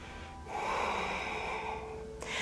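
A single deep, audible breath is taken during a hip-flexibility yoga exercise, a long airy inhale-exhale with a soft rush of air, close and fairly quiet, with no speech over it.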